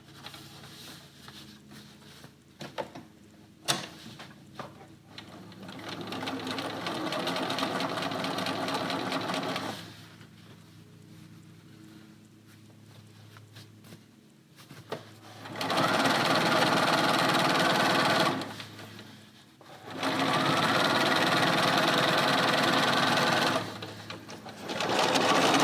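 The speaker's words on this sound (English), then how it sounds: "and I'm going to stitch in the ditch." A sewing machine stitches in the ditch on a quilt, running in loud bursts with pauses between them, a fast steady whirring chatter, close and clear.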